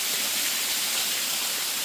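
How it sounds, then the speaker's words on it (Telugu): Water from Palakondalu waterfall near Kadapa pours down from above with a constant, broad rushing roar. The sound is close, with no pauses and no voices. "చూడండి పైనుంచి వాటర్ అయితే పడతా ఉంది"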